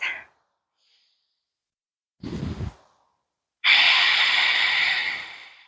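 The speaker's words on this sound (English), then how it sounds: "You can hear the breath all around you" Breathing during a yoga class: a short breath at the start, a brief sigh-like exhale near the middle, then a long, loud, steady airy exhale lasting about two seconds, close and with no talking.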